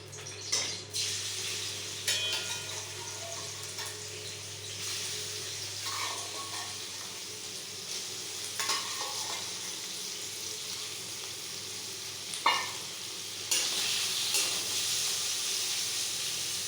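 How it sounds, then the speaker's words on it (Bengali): Shrimp fry in a little oil in a wok on the stove, a steady soft sizzle with occasional louder hissing bursts and metal utensil clinks, no talking. "প্রথমে আমি চিংড়ি মাছটা ভেজে তুলব।"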